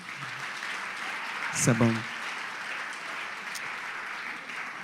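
A church congregation claps steadily through a celebration service, a continuous wash of applause with a brief spoken phrase rising over it partway through.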